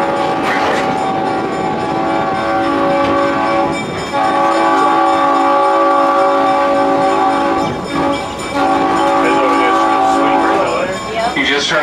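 Train horn blasts sound loud and close at a railway crossing on the Hawaiian Railway, sustained tones in a pattern of long and short blasts with brief gaps, over the rumble of the train.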